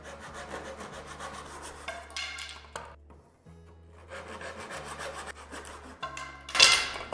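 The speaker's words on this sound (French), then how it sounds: "On va bloquer notre scie à onglet sur le côté de la table." A miter saw clamped to the side of a table cuts wooden battens in two whining passes with a short quiet gap between them, ending in a bright burst of cutting noise.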